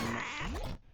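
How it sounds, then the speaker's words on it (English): A cartoonish cat yowls and grunts in a video game where cats are thrown by a cat-tossing character, a single short, loud cry that bends in pitch and then cuts off abruptly. "Get a bunch of cats out"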